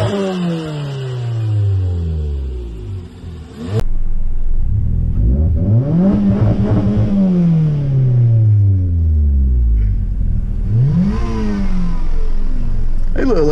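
Suzuki Ignis engine revving as the car drives through a village, loud rising and falling sweeps after a quieter opening, with the engine rumbling close throughout.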